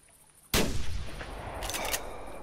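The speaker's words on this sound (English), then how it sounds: "Shot. Good shot." A single loud rifle shot in the hunting game theHunter, a sharp broadband crack followed by a long rolling tail of echo that slowly fades, with a brief burst of higher rustling noise near the end.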